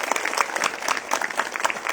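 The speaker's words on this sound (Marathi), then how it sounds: "आपण सर्वांनी पहिल्यांदा त्यांचं टाळ्या बघून स्वागत करूया" An audience at a spiritual discourse gathering claps to welcome a guest, a dense, steady round of applause from a crowd close by.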